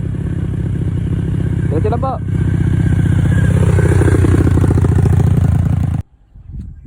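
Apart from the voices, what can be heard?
adventure motorcycle engine running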